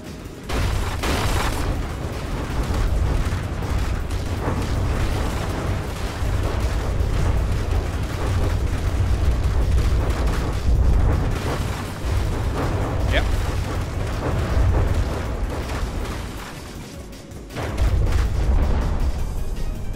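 Weapons firing and explosions in the Dakkaventure video game, a dense continuous barrage of booming blasts and rumbling impacts, loud and sustained with brief lulls and some talk over it.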